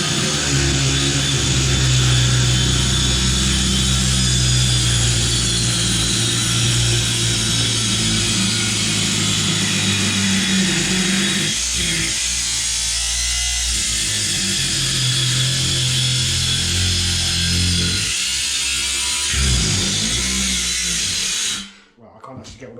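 A Ryobi R18AG-0 ONE+ 18V cordless angle grinder cuts steadily through material with a loud, continuous high-pitched whine and grinding roar, dipping briefly as the disc bogs, then spinning down and stopping at the end.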